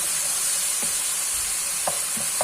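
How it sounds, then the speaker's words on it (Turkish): Tomato paste sizzles steadily in a frying pan as it is stirred, with a constant bright hiss and a few soft scrapes and taps, all close and without speech. "Salçamız de kavruldu arkadaşlar görmüş olduğunuz gibi"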